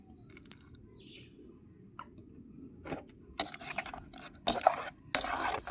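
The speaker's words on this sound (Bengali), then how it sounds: "এখন সামান্য অল্প জল দিয়ে এটাকে একটু গুলিয়ে নিতে হবে।" A thick batter of besan and egg with a little added water is stirred in a bowl, soft scraping and mixing sounds that start quietly and grow louder and busier toward the end.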